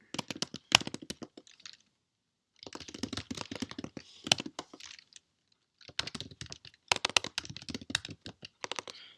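Computer keyboard typing code, quick irregular bursts of crisp key clicks separated by brief silent pauses, close and clear with no talk.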